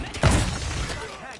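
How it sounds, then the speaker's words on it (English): An armor plate is pushed into place in Call of Duty Warzone, with a close, heavy thud and a crunching shatter that quickly fades into a rumbling tail. "Inserting additional armor."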